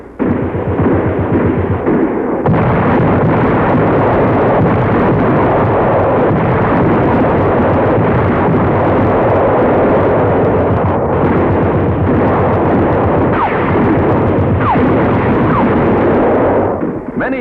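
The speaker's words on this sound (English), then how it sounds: "Many of them set off hand grenades against their bodies, resorting to Hara Kiri rather than surrender." Hand grenade explosions in a World War II battle in the Admiralty Islands come as a continuous roar of heavy blasts and rumbling, loud and saturated, with brief bursts breaking through.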